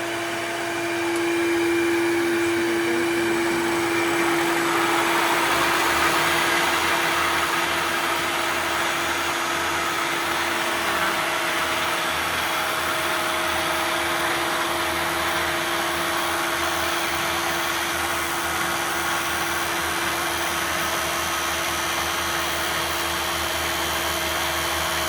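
A fiber mill spinning machine runs steadily, its drafting rollers feeding twisted yarn onto a spindle with a continuous loud mechanical whir and a steady tonal hum that holds throughout.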